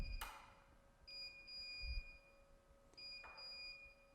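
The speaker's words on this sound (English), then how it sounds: "The beeping will stop and it will auto-correct." An SWF MAS 12-needle embroidery machine gives an error alert, main shaft not in fix position: two pairs of sharp electronic beeps, separated by a short pause, with soft mechanical clunks in between.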